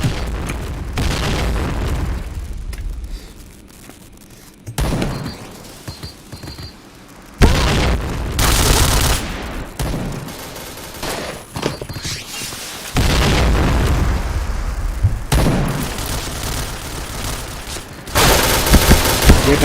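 Heavy bomb blasts and gunfire in the Point Blank shooter, loud booming bursts recurring in blocks with crackling fire between them, with little talk.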